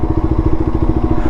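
A QJMotor Race 250 motorcycle engine lugging at low revs, a close, loud, rapid chugging pulse with uneven thumping firing beats throughout the short stretch.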